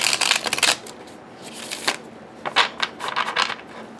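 A tarot card deck is riffle shuffled several times in quick succession, each shuffle a crisp, close burst of fluttering card snaps with short quiet pauses between them.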